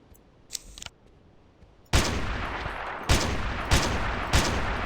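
Rifle gunfire in the Carnivores Triassic video game: a loud opening burst of rapid automatic fire, then three more sharp shots at roughly one-second intervals, after a faint earlier shot.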